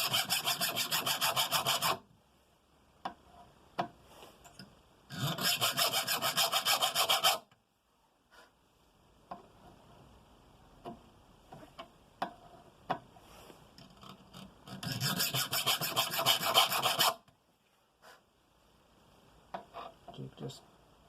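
A file rasps across the steel plate of a hand saw while new teeth are cut, in three long bursts of steady back-and-forth strokes separated by quieter pauses with faint taps.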